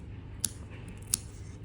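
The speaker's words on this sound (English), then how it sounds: "just pull it a little bit and then get your scissor and cut the extra." Scissors snip off extra yarn while finishing a crocheted lily petal, giving two crisp, quiet cuts about a half second apart against a soft room hush, with no speech.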